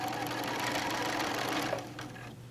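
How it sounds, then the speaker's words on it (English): A sewing machine fitted with a walking foot runs steadily, stitching around the edge of a flip-and-sew placemat in a fast, continuous mechanical whir that eases off near the end. "we're just going to stitch all the way around"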